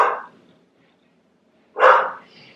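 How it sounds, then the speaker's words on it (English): A dog barks twice indoors, two loud close single barks separated by more than a second of near silence. "Don't mind my dog."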